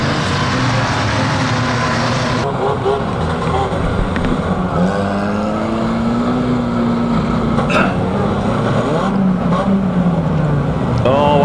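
Vans race and collide in a big van banger race final at Kings Lynn, with engines roaring and revving continuously and a few knocks and thuds, while a commentator talks throughout.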